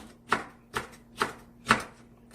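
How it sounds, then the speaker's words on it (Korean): A knife slices green bell pepper on a cutting board for a stir-fried cabbage side dish: four evenly spaced, crisp chops close by, each a sharp tap with a brief tail. "청피망 한 개는 이렇게 썰어주시고"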